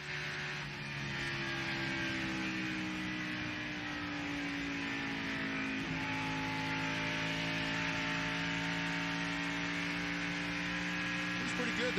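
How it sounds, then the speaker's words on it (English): NASCAR race cars at the 2000 NAPA Auto Parts 500, engines droning in the distance, with throttle easing and pitch dropping as a car backs off for a tight corner, a faint steady hum underneath. "I think I heard the throttle go down"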